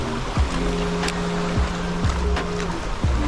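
Steady rushing water pours through a spillway at night, a continuous broadband wash punctuated by a few low thumps and swishes close by.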